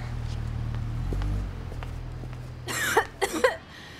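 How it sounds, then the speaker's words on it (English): A person coughs in a few rough bursts near the end, close up, after quiet shuffling and low background rumble. "your cough still sounds bad."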